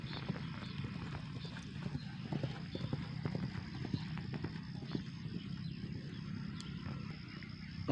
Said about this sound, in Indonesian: Dan masih ada lagi kuda-kuda juga yang sedang memasuki lapangan untuk berlatih.